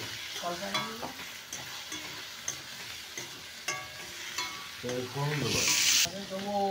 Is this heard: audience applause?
no